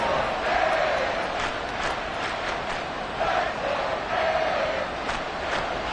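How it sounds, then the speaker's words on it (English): A packed football stadium crowd roars loudly and steadily to force a false start, a dense sustained wall of cheering and yelling with surges of noise. "This crowd trying to force a false start here."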